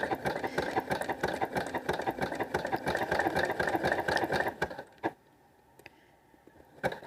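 A sewing machine stitches along the neckline of a front bodice, a steady close mechanical whir with rapid ticking that runs for several seconds before stopping abruptly, followed by a few faint clicks in near silence.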